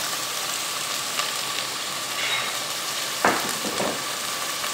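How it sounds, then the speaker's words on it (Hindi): Onions with garlic paste fry in a pan, a steady close hiss and sizzle that keeps on without a break, with a faint stirring clatter partway through and no talking. "इसको 2 से 3 मिनट फ्राई करना है"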